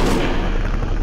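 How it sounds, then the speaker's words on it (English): A big, epic anime explosion roars as a loud, continuous booming rumble with a heavy low end, filling the whole moment without pause. "it looked like a Michael Bay explosion"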